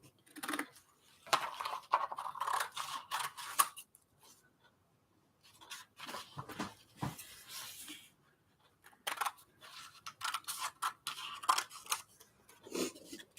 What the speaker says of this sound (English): I'm just trimming the edges off a little here